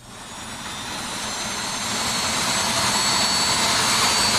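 A modern-day jet funny car engine roars at a drag race, a loud broadband whoosh and whine that builds steadily and stays sustained, with no voices.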